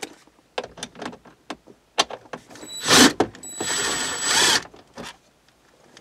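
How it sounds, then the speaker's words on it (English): A power driver spins out 8mm bolts holding the stereo in the dash of a 2003-2005 Honda Pilot, short whirring bursts between clicks and handling knocks, with two longer whines near the middle, close up and alone. "So I'm going to go ahead and take the stereo bolts out and these."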